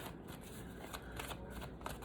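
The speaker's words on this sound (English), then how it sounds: "One more shuffle." A deck of cards is shuffled in one continuous, soft riffling rattle, close and fairly quiet, with no talking.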